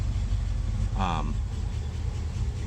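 Low, steady V8 idle from a 1977 International Super Scout II with a newer exhaust rumbles throughout, with a brief voice rising over it midway.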